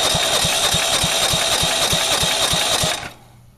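A lawn mower engine fitted to a go-kart runs loud and close with a steady, rapid chugging beat, then cuts out abruptly, leaving only a faint low hum.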